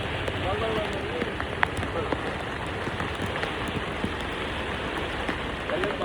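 A swollen monsoon stream near Kondeshwar rushes continuously, a dense, steady broadband roar close by with no pauses, water noise filling the whole stretch.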